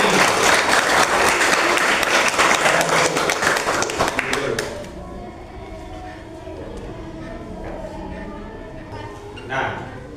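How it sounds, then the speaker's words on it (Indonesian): A classroom group claps loudly for about four seconds during a mathematics lesson, then the applause stops abruptly, leaving quiet room noise with faint voices. "Kasih tepuk tangan untuk ketiga nomor ini."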